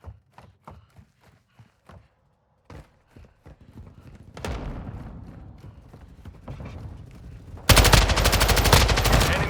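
Gunfire in Call of Duty Warzone, starting with scattered sharp single shots and short bursts, then a denser stretch of fire before a loud, sustained automatic burst takes over close up at the end.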